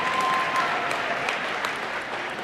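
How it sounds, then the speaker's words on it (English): Audience applause for the speakers at a motivational seminar, a dense wash of clapping that stays steady and fairly loud throughout. "Give them a round of applause."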